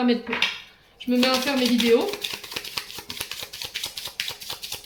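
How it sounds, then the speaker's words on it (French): Rapid, sharp metallic clicks and taps from a neighbour's construction work on tarmac repeat in an irregular rhythm, fairly close, with someone speaking briefly over the start of the tapping. "les petits clics-tics que vous entendez, c'est le voisin qui tape sur son macadam."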